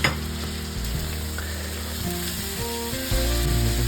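Tomatoes added to a hot pan with eggplant and spices for a one-pan moussaka, a steady close sizzle and crackle of frying with light stirring.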